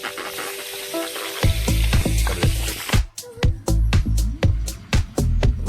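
Small chenga fish frying in hot oil in a pan, a loud close sizzle that surges after a quiet start, broken by repeated sharp spatters and pops.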